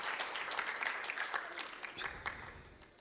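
An audience claps for panelists at a breast cancer awareness event, a steady patter of applause that slowly thins and fades toward the end.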